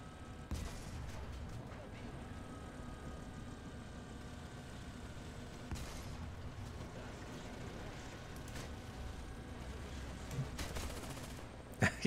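Gunfire from tanks and cannons in the War Thunder video game, a steady stream of distant shots and blasts under constant engine rumble, with a few louder bursts toward the end.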